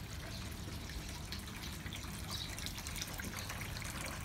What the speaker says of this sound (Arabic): لما الماء يبدأ يرتفع يرتفع يرتفع